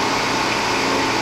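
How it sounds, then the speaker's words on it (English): A drill bores a hole into a small part for a mini propane burner, giving a loud, steady whirring whine that holds without a break. "I'm going to drill a hole in here."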